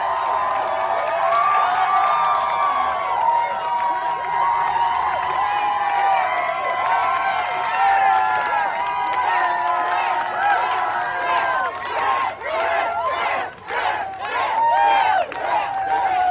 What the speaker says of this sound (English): they're all like going nuts and like hooting and clapping